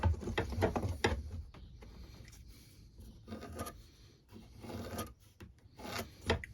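Rasp or file scraping across an oak tenon for hand-cut mitred mortice and tenon furniture joints, a series of short dry strokes, close and fairly quiet, with brief pauses between.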